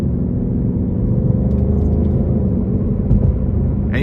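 A 2023 Ford Mustang Mach 1 with a 480 hp 5.0 V8 drives along, its engine giving a steady, loud, deep rumble heard from inside the car, with no talk over it.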